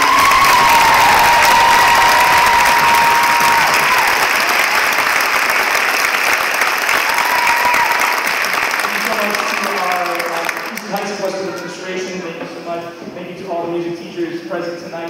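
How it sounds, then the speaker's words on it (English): An audience at a middle school orchestra and choir concert claps loudly and continuously for the students, sustained applause that fades as a voice begins speaking over its tail. "another round of applause for all the students."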